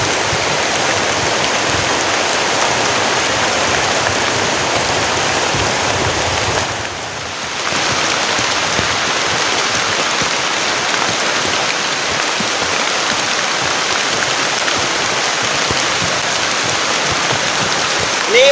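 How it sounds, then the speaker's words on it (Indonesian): Heavy rain pours steadily onto a tent in a forest during a storm, a dense, loud, continuous hiss with only a brief dip in intensity partway through. "Ini hujannya lama banget teman-teman."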